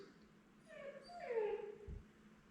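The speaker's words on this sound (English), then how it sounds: "What you can hear is our dog, Sky." Young nine-week-old puppy named Sky whimpering, a thin rising whine that swells to a brief peak near the middle before fading, fairly faint against a quiet room.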